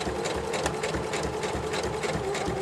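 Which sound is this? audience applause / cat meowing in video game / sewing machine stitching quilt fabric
sewing machine stitching quilt fabric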